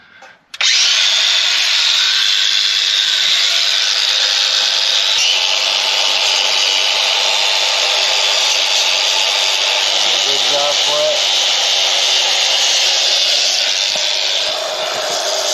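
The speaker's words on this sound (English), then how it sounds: "Basically, we just got that wire wheel, cleaning that up." A wire wheel on a power tool scrubs a metal plate from a 1966 Ford F100 project with a 351 Windsor, a steady, loud, harsh abrasive whir that runs without a break for the whole stretch.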